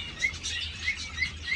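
Lovebirds in a breeding aviary give short, bright chirps that repeat every few tenths of a second, fairly close and clear over a low background hum.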